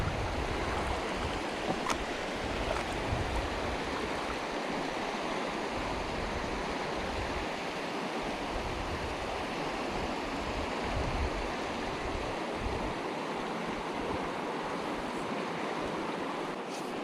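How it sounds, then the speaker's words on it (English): Steady, full rush of water in a high mountain river where warm hot spring water pours in, a constant broadband roar with no breaks and no voices. "That might be hot spring water that's pouring in."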